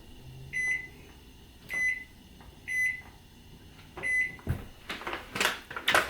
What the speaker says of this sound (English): So I'm just going to set the timer on my microwave.